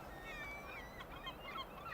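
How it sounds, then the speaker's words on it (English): Gulls calling across a seabird nesting colony on the Welsh coast, where birds sit on eggs all around; a dense, continuous chorus of overlapping squealing cries, some near and some farther off, with no talk. "Gulls just sitting on eggs all around me."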